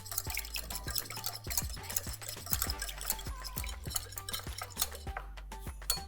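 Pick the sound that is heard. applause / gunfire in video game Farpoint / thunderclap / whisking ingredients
whisking ingredients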